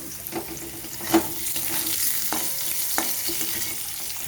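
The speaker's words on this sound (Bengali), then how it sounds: "একই রকমভাবে আমি আলুগুলোকে ভেজে নেব" Potatoes seasoned with salt and turmeric fry in oil in a pan, a quiet continuous crackle broken by a few sharp clinks and scrapes of stirring.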